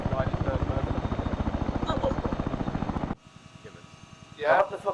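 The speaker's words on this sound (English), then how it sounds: "Sounds like a helicopter now." A helicopter in a military video game chops away with fast, rhythmic rotor thumps, loud at first, then abruptly quieter and muffled as the view shifts, with a brief voice near the end.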